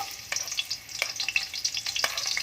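Onions hitting a hot pan and frying, a busy crackling sizzle with sharp pops and spatters, close and steady over a couple of seconds.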